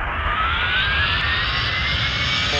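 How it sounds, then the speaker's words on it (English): Airliner jet engines in the Airline Commander flight simulator game, a steady loud broadband roar with rising whine building through the takeoff, no talking. "taxi it up to the runway and take off"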